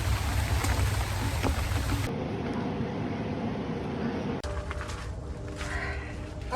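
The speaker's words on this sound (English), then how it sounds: "it is raining" Steady rain falls outdoors in a garden in August, a continuous hiss of drops on surfaces heard close by and alone, with abrupt shifts in its tone.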